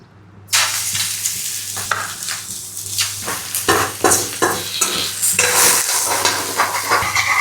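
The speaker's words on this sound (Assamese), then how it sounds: "কেৰাহীটো গৰম হৈ গৈছে এতিয়া তেল মাংসখিনি কেইপিচমান আগতে দি লওঁ" Pork pieces hit hot oil in a wok with a sudden loud sizzle, followed by continuous crackling and scraping stir strokes of a utensil against the pan, no talking.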